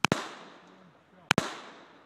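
A gun fired at a pumpkin outdoors gives two sharp, loud reports about a second apart, each followed by a quick second crack and a fading, echoing tail.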